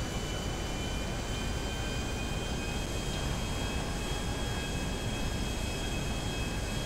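Airplane in the video game GTA V, a steady, loud, broadband engine roar with a faint high whine, unchanging and continuous throughout with no talk.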